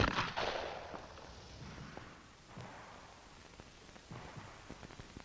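Pistol shots crack one after another at close range in an FBI defensive firearms training film from the 1960s, several sharp reports spaced irregularly against a hissy, worn background.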